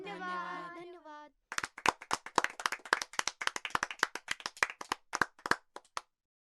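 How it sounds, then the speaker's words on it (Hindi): Children in a classroom clap together after a brief spoken prompt, a run of loud, close hand claps in a quick, uneven rhythm that stops abruptly. "ताली बजाओ।"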